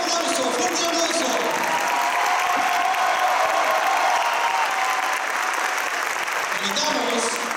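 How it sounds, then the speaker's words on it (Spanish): Strong, sustained applause from an audience at a school carnival performance by children, a dense continuous wash of clapping with some cheering and a few voices mixed in throughout. "Premiamos el esfuerzo de nuestros niños y niñas con un nuevo aplauso, fuerte aplauso."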